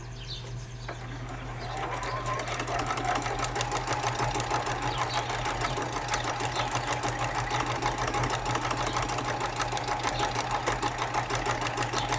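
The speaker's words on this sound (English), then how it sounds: "we are sewing on that solid line all the way down" A sewing machine runs steadily and close up, stitching quilt sashing along a marked line; the motor hum starts after a brief pause and then keeps a fast, even rhythmic whir to the end.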